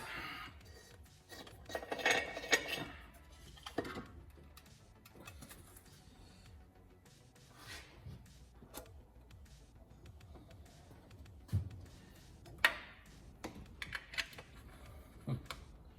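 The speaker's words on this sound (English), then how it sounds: "let's get this rocker cover off" A socket and extension work loose rocker cover bolts on a 265 Hemi engine, giving scattered metallic clicks, ratchet taps and light clanks against a quiet workshop background, with no talking.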